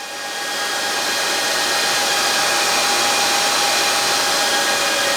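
A Z15 Pro crypto miner drawing around 2870 watts roars with a steady, loud broadband fan whoosh and faint whine, rising in the first moment and then holding constant, close by with no talking.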